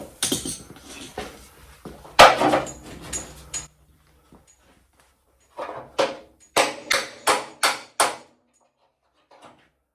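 Sharp metallic taps of a hammer on a punch driving a door hinge pin on a 1972 VW Super Beetle ring out, a few early and then about six evenly spaced strikes, with pauses of silence between.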